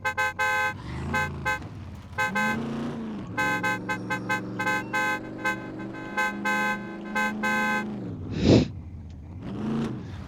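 A car horn in the video game SCUM honks repeatedly in short and sustained blasts, loud and close, with engine noise and a brief rushing burst near the end.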